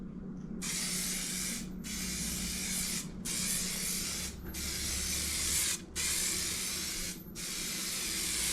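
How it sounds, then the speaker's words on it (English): Steady hissing aerosol spray of outdoor fabric paint in several long bursts, each lasting about a second or more, separated by brief pauses, close and fairly loud with no talking. "you spray it on, honestly, just like regular spray can paint"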